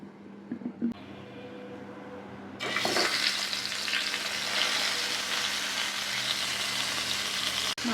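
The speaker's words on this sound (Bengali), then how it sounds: "মাছের মাথাটা উল্টিয়ে পাল্টিয়ে ভালো করে ভেজে নেব।" A fish head rubbed with salt and turmeric frying in hot oil for a mung dal dish breaks into a loud, continuous sizzle after a quiet start, steady and close, with faint scraping as it is turned in the pan.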